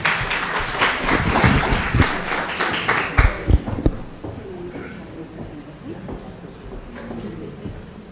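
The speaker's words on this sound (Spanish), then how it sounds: "Vamos a recibirla con fuertes aplausos" Audience applause at a scientific talk on Ebola greets an arriving speaker from a national public health centre. It is loud and dense for the first few seconds, with a few sharp claps, then thins and fades under low room murmur.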